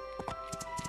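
Horse hooves while riding in the video game My Time At Portia: a quiet, regular clip-clop of several light hoofbeats at a brisk trot over a faint steady tonal background.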